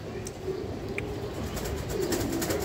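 Racer pigeon chicks coo softly in a low, steady murmur that runs through the whole moment, close by, with faint chirps and no talking.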